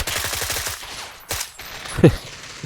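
Rapid automatic gunfire in a shooter game running as a graphics benchmark: a quick rhythmic volley of shots at the start, followed by a few isolated, louder single bangs.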